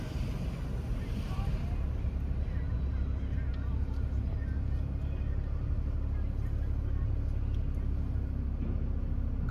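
A car driving up to a hotel in Manali after a mountain road journey from Chandigarh: a steady low engine and road rumble with wind buffeting the microphone, continuous and close throughout.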